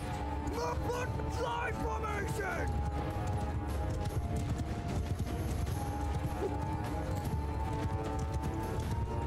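Rapid clip-clop of horse hooves galloping steadily in Mount & Blade II: Bannerlord, beneath a busy game soundscape, with whistling tones and a voice talking over it.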